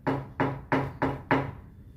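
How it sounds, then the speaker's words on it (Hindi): Five firm, evenly spaced knocks land on a door from the outside, each a hollow thud with a brief ring, loud and close with nothing else heard. "उस दरवाजे के बाहर से कोई नॉक का आवाज आई"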